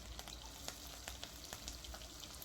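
Garlic and chopped green chilies frying in hot oil for egg fried rice, a steady quiet sizzle with a few faint crackles and pops, no voices.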